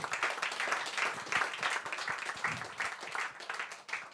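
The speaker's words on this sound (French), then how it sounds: "tu peux aussi encore applaudir aussi Joël, Elodie et Juliette" A church audience applauds the lead team at an ICF Sunday service, a fairly quiet, continuous wash of many hands clapping that swells and dips without letting up.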